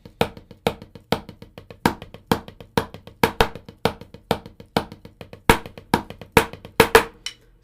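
Drum sticking exercise alternating right- and left-hand lead, four cycles on the right then three on the left, played as a steady, even stream of crisp close strokes with regular louder accents marking each cycle, no voices over it.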